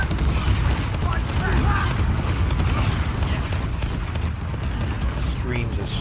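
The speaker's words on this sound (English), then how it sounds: "Auto rapid fire infinite RPG." Rapid-fire RPG rockets from a cheating player in Uncharted 4 multiplayer set off continuous overlapping explosions and heavy booming, loud and dense for the whole stretch, with a few sharper blasts near the end.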